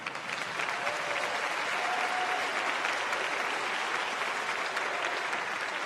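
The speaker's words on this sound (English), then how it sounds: "why don't we all go ahead and applaud now so we can get it out of our systems" A church audience at a bluegrass concert gives a dense, even wash of applause, building quickly and holding steady at full strength throughout.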